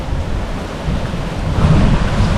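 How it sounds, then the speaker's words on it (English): Rough sea waves surge and crash on a windy rocky coast. The surf roar is loud and steady, wind buffets the microphone, and the swell builds toward the end with no voices. "Wow, look at the waves there."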